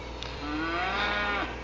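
On a farm paddock, a cow gives one long mooing call that rises and then falls, heard at moderate distance over steady wind-like background noise.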